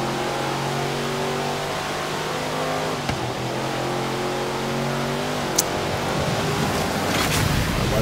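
Bone Shaker hot rod in Forza Horizon 3 sliding around a wet, twisting mountain circuit, a steady engine drone with wavering pitch and a hiss of spray, a couple of sharp knocks breaking through, no voices.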